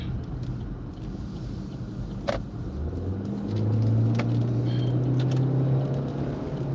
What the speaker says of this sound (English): I know you heard that motor pick up.